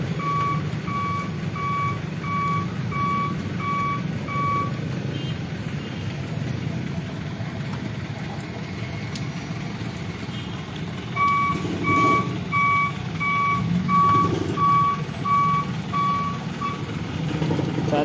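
Traffic jam of cars and motorbikes on a flooded stretch of Jalan Perintis Kemerdekaan: a steady low engine rumble of idling vehicles, broken by two long runs of a truck's repeating reversing beeps.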